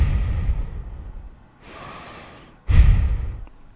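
A voice imitates someone breathing right against his ear, giving heavy, breathy exhalations and snorting gasps in uneven bursts, close and loud with brief pauses between.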